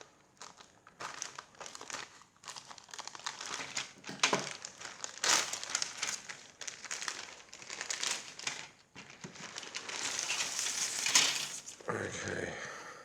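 Scissors struggling through crinkly plastic packaging from a 1/72 scale Chinese junk model kit, a quiet close stream of crinkling, snipping and rustling with uneven bursts.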